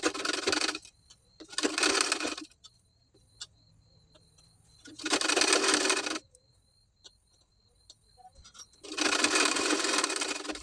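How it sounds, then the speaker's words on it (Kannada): A sewing machine stitching a double-folded strip onto the lower edge of a blouse, running in four separate bursts of steady broadband whirring with quiet pauses between, fairly close and loud. "ಬ್ಲೌಸ್ ಕೆಳಗಡೆ ಇಟ್ಟು ಸ್ಟಿಚ್ ಮಾಡ್ಕೊಳ್ತಾ ಇದ್ದೀನಿ."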